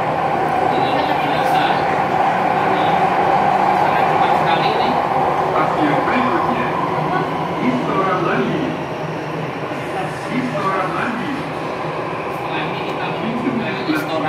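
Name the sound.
Jakarta MRT subway train running underground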